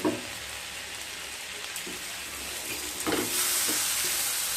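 Spice masala fries gently on low heat in a pan, giving a soft, even sizzle with a few light stirring scrapes and taps, fairly quiet and steady throughout.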